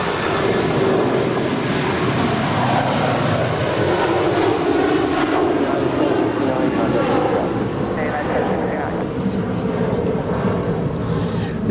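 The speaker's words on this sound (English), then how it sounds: "This is United 1069 departing to Chicago. It's a 20-year-old 757-300." A 20-year-old United Boeing 757-300 bound for Chicago departs Los Angeles International Airport, its engines producing a loud, sustained broadband roar that stays steady and close throughout.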